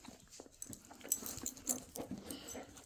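A 60-pound hound whimpers and whines in short, soft, broken bursts, close by in a quiet house, with no talking.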